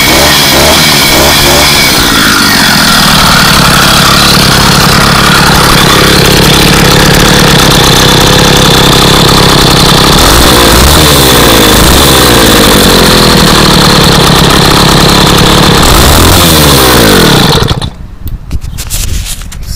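A motorized bicycle's small engine runs loud and close, a continuous buzzing drone with rising and falling revs that cuts out near the end, leaving rustling and handling noise.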